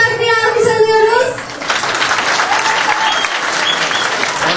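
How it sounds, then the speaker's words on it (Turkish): A voice speaks briefly in Turkish, then an audience breaks into sustained clapping and cheering that carries on to the end. "Eğleniyorsak bir alkış alıyoruz."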